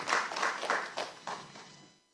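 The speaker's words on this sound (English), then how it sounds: "Can you clap for me?" An audience at a licensing congregation ceremony claps briefly, a few fairly close rounds of applause that thin out and fade to silence within about two seconds.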